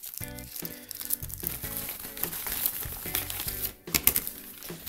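Small plastic bags holding LED bulbs are handled close up, giving a dense run of crinkling and rustling with sharp ticks, steady and fairly loud throughout.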